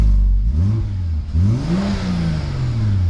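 A Volvo S60 T6 engine with a stage 2 tune revs up and down in a few rising, falling bursts, loud and close, with no talking.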